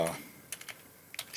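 Quick keystrokes on a computer keyboard while entering text in C++ Builder, a few sharp clicks in a short burst and another pair near the end, close and alone after a brief voice at the start.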